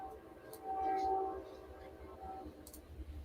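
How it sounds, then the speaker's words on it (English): A Norfolk Southern train rumbles past about 200 yards behind a shop, a faint low steady roar with a brief horn-like tone, heard from a distance. "Can you guys hear the train?"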